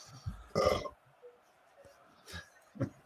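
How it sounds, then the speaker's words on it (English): A man lets out a short, loud burp, then quieter throaty noises and faint movement follow in an otherwise quiet room. "That was a nice burp"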